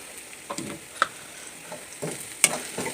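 Semolina is stirred and roasted with browned onions in a pan, with a soft continuous sizzle and intermittent scraping strokes of the spoon at close range.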